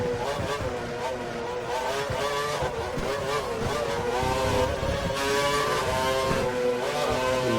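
Formula 1 race car engine in the F1 2012 video game, a dense, loud, high-pitched whine that rises and falls steadily while drifting through a corner at the Korea circuit, with a voice talking over it.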